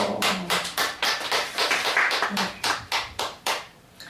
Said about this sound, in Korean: 우리 예수님 탄생하신 날 박수로